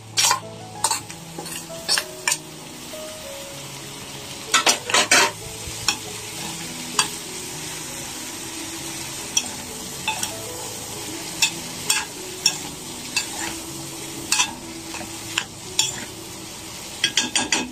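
Green beans with minced meat sautéing in a pan give a constant soft sizzle, broken by sharp clicks and scrapes of a spoon stirring against the pan throughout.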